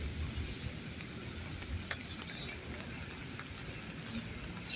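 Steady rain keeps falling outdoors on a cold, windy day, a soft continuous hiss with scattered drops ticking on surfaces. It is fairly faint and even, with a few brief louder taps and no voices over it.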